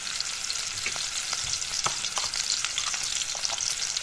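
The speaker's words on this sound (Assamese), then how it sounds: "ৰং চুঙোৱা কৰি ল'ম পিঁয়াজখিনি। এইখিনি অলপ লৰাই ল'লোঁ।" Chopped onions sizzle steadily in hot oil in a pan for a chicken curry with brinjal, with occasional soft scraping clicks from stirring; no one speaks.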